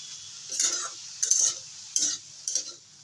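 A utensil gently stirs coriander leaf paste in a hot pan, four short scraping strokes with a soft sizzle in between, close and clear, no talking.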